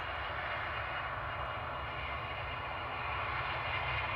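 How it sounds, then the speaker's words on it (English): Logan Air ATR turboprop taxiing at Manchester Airport, a steady, distant engine drone that holds evenly throughout with no talk. "Got this Logan Air ATR taxi now."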